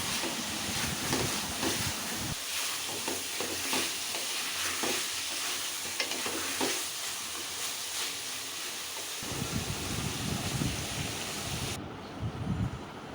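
Mutton for halim stirred in a pan with bay leaf, coriander, turmeric and chili powders, giving a steady close sizzle with repeated scraping strokes of a spoon.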